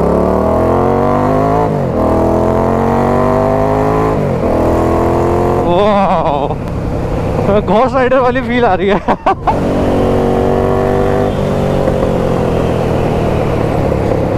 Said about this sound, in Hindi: इसके अंदर थंप है भाई, आवाज भी है जैसी आपको चाहिए एक मॉडिफाइड बाइक के अंदर